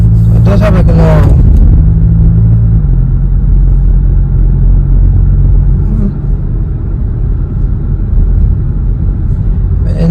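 A 2021 VW Tiguan fitted with a B2B Tiggypipe exhaust pulls away from a stop, a loud low rumbling drone that holds steady, with brief talk at the start.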